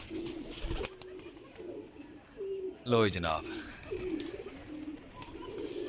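Pigeons coo in a loft, a short burst of throaty cooing standing out briefly amid soft chirps and background noise while someone talks nearby.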